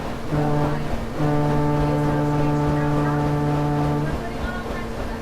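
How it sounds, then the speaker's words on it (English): A ship's main whistle gives a deep, harmonic-rich blast that holds for a few seconds after a brief opening toot, loud and close over faint outdoor background. "That was the ship's whistle."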